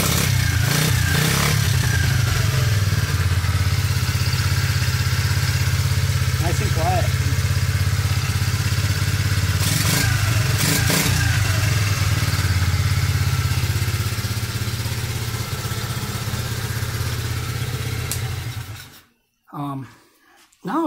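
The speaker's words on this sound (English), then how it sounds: "I'm running her out of gas. I got the gas off, so she's gonna stammer a little bit." Pirhana ZR 90 pit bike engine running out of fuel with the gas shut off, a loud uneven idle that sputters and then cuts out near the end, with talk over it.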